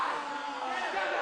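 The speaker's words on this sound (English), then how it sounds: "this crowd encouraging SOS to make an offensive here" Wrestling arena crowd at an IWW match between Sheamus and Drew Galloway, a steady roaring cheer sustained and fairly loud throughout the brief moment.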